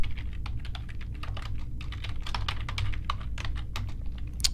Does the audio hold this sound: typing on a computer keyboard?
yes